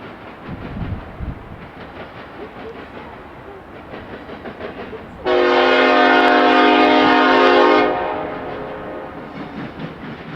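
Norfolk Southern intermodal freight 29F rolls along the former Nickel Plate Chicago district with a steady rumble of wagons. A loud, sustained multi-tone horn blast of about three seconds cuts in midway, then the passing rumble continues.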